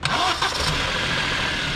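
A car engine cranks and catches after a jump-start from a truck battery, with a short sputtering crank that settles into a steady idle, close and loud.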